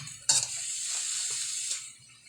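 Chicken and eggplant simmer in coconut milk in a pot and get stirred, giving a steady bubbling sizzle with a sharp clank of a utensil at the start and light scraping.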